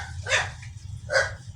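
Two short, sharp barks from a dog in a room, spaced about a second apart over a quiet background, with no talking.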